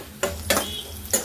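Two dried red chillies frying in a pan with a little garlic for an ivy gourd and coconut fry, a close sizzle broken by three sharp spatula-against-pan scrapes, no talk.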